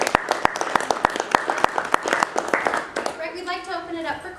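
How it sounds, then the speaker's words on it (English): An audience at a tiny houses talk gives a round of applause, sharp, close hand claps in a quick uneven rhythm that fade out after about three seconds as a voice starts speaking. "If you guys could give them a round of applause."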